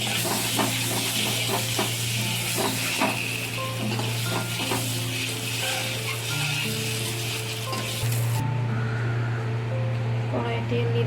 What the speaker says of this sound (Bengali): ডিমগুলো ভেজে নেব একটুখানি হালকা করে।